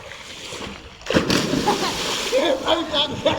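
A person plunges into water with a sudden splash, followed by sloshing and excited voices nearby.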